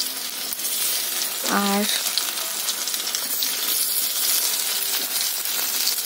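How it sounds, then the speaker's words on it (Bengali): Bitter gourd and potatoes frying in a pan, a steady close sizzle that runs throughout, with a brief metallic clink of a utensil early on and a single short spoken word. "একটু ছোট করলা ছিল, করলা আছে, সেইগুলো ভাজছি।"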